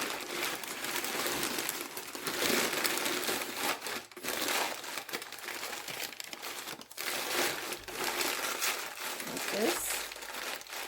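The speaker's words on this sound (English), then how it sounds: "filled it with a little bit of paper." Paper crinkles and crumples in bursts as it is stuffed into a plant pot for a succulent centerpiece, with short pauses between handfuls.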